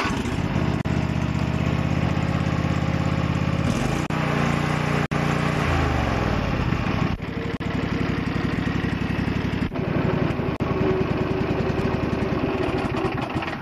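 A Briggs & Stratton Vanguard 14 hp V-twin lawn tractor engine cranks briefly, catches and then runs steadily, loud and close, with a few abrupt changes in engine note along the way.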